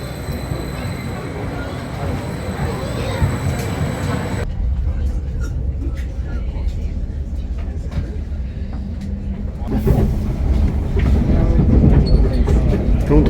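A train running from Ipswich toward London, with a steady rumble of wheels and carriage noise, some rhythmic clatter, and a louder surge of track noise near the end, under occasional talk.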